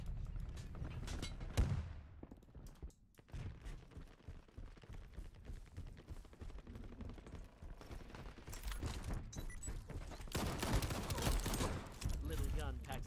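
A small gun fires in the Shatterline shooter, with rapid bursts of shots and mechanical clatter across a busy mix; loud sharp cracks stand out near the start and again toward the end.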